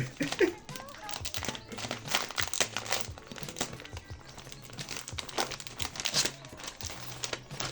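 Plastic wrapper of a Minecraft collector card pack crinkles and tears close up in a steady run of rustling, crackling handling noises, with no speech over it.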